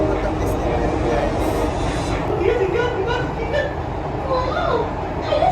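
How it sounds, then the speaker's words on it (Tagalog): Interior of the train from Sunny Bay Station to Hong Kong Disneyland: a steady loud rumble of the moving carriage with a continuous rolling hum, while passengers talk faintly in the background. "ito yung tren papunta ng Hong Kong Disneyland"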